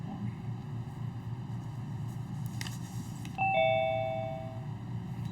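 A doorbell chimes once partway through, a clear two-tone ding-dong ringing out over a steady low hum in an indoor setting during a live online conversation.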